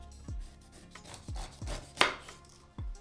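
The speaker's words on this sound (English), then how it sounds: "Then, peel off the skin." A knife cuts the skin away from a pineapple whose top and base have been trimmed. A few sharp, separate thuds and scrapes sound close and fairly quiet, with short pauses between strokes.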